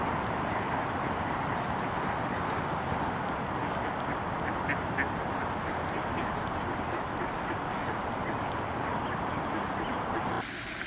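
At a park duck pond with ringnecks, wigeons and mallards, ducks quack in a dense, continuous wash of overlapping calls that holds steady and loud for the whole stretch.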